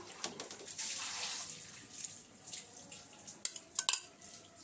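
Saffron-soaked milk is poured over chicken biryani in a pot with a soft, wet splash and trickle, followed by a few sharper drips and clinks near the end. Close and fairly quiet, with no talking.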